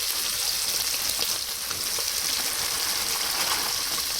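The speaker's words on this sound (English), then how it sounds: "Throw a sausage in there and rinse it off a little." Sausage sizzles and fries in a large pot for boxed Zatarain's gumbo, a steady close crackling hiss that continues without pause and with no talking.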